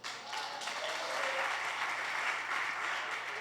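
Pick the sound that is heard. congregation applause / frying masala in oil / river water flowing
congregation applause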